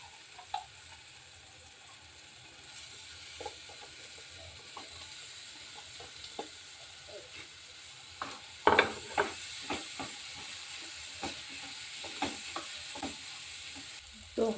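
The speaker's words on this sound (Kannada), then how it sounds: "ಈಗ ನಾನು ತೊಳೆದುಕೊಂಡಂಥದ್ದು ಹಾಗಲಕಾಯನ್ನು ಹಾಕ್ತೇನೆ ನೋಡಿ" Washed bitter gourd stirs and scrapes in a pan of wet spice masala, with soft sizzling under scattered clicks and knocks of a spoon against the pan, close and fairly quiet.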